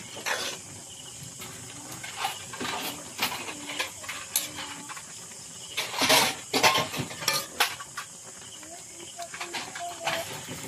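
Food stirred in a pan while cooking, with clinks and scrapes of a utensil against metal, soft sizzling hiss underneath, and someone talking.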